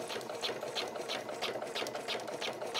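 A sewing machine runs steadily while stitching a straight line on a welt pocket, a continuous close whir with a rapid, even needle rhythm and no talking.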